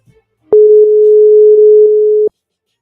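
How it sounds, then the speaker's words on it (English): A single steady electronic telephone tone sounds for nearly two seconds, clean and continuous, with silence before and after. "You're going to hear a little ringing."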